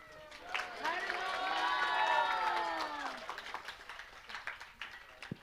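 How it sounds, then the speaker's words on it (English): After a kirtan performance, an audience cheers with rising and falling voices, then scattered, uneven claps trail off near the end. "Let's give one more round of applause for Achyuta Gopi's beautiful kirtan"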